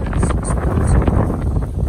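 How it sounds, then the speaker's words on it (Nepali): Strong wind blows hard after rain on a mountain road trip toward Taplejung, Nepal, a loud, steady roar buffeting the microphone throughout. "मजाले पानी परेछ, हावा बेसी चल्दैछ।"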